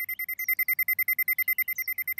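A cartoon alarm summons signal, a fast rhythmic electronic beeping pulsing steadily throughout with a couple of faint chirps over it, clear and alone.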